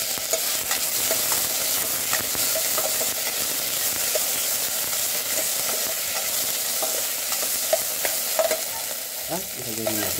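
Tomatoes sautéing in a pan for a vegetable dish made with Lea & Perrins, a continuous close sizzle with scraping stirs scattered throughout and a few louder clinks near the end.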